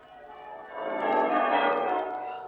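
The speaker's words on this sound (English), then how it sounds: "the bells of the town pealing out there beyond his window" Town church bells peal in an audio drama, a swelling wash of overlapping ringing that grows louder through the middle and stays steady to the end, with no talk.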